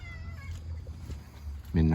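A skinny, soft-furred black cat meows close by, a short rising cry at the start and a louder, stronger meow at the end.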